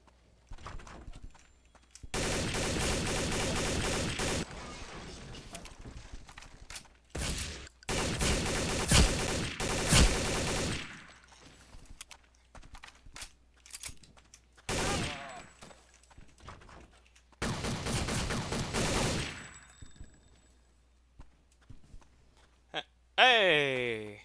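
Gunfire in Counter-Strike: Condition Zero comes in sharp automatic bursts separated by short quiet gaps, with repeated volleys rattling loudly and a final high ricochet-like ring at the end.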